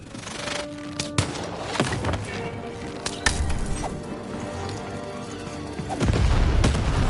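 Cannon firing in the video game Lost in Random, heavy booming blasts and crashing impacts amid a dense, continuous game soundscape, with a louder rumbling burst near the end.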